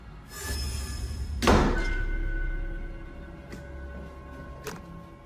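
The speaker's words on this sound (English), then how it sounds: "the door slammed shut violently" A door slams shut indoors with a single heavy thud, preceded by a softer bump and followed by a couple of light knocks as the room falls quiet.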